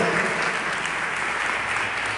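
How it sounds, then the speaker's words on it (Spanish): Church congregation at a charismatic Catholic renewal congress applauding together, a steady, dense wash of clapping that holds evenly loud for about two seconds with no talk over it. "Vamos a dar un aplauso al Señor."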